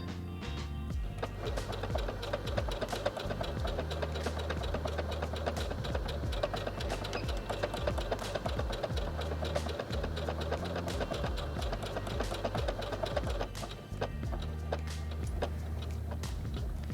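Heavy Duty HD6805C sewing machine stitching a tulip design, a rapid continuous mechanical whir with ticking needle beats, close and steady throughout.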